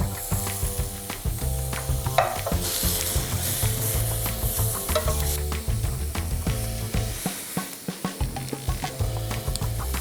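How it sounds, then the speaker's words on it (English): Corn ribs sizzle steadily on a dry, screaming hot griddle pan, a loud continuous frying hiss with crackling pops and a few sharp knocks, heard close and alone. "So, screaming hot griddle pan. I'm just gonna lay the corn in there now."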